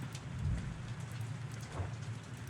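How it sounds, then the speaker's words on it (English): Video game rain falling steadily, a soft, even patter with low rumbling underneath, faint and continuous with no voices. "I hear rain, but I don't see rain."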